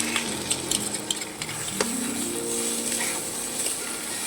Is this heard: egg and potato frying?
yes